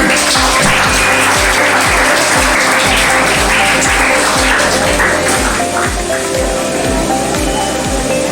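A crowd at a students' topper award function applauds loudly beneath pounding music whose deep, regular bass thumps drive under the constant hiss of clapping, the whole scene dense and loud throughout.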